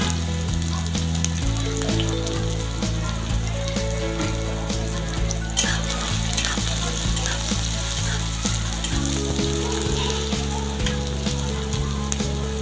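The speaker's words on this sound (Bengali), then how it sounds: "পেঁয়াজটাকে একটু ভেজে নেব" Finely chopped medium onion frying in a pan for Bengali begun bharta, a loud, continuous close sizzle with faint stirring clicks throughout and no talk.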